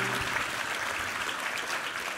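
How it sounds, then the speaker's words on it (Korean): Congregation applauding during a Sunday worship service at a Korean church revival meeting, a steady wash of many hands clapping at moderate distance with no pauses. "우리 하나님께 감사와 영광의 박수 올려드리겠습니다"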